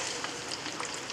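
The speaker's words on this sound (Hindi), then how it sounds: "आपने देखा कि हमारा जो चिकन है ये सेकंड टाइम बढ़िया भून लिया हमने इसे" Chicken sizzles steadily in a pan of masala, being roasted a second time for a Jammu-style Dogra chicken curry. The frying is close and continuous, with fine crackling throughout and no voices.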